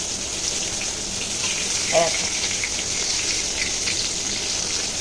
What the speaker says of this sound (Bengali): এই দেখো পটলটা বেশ ভাজা হয়ে এসছে।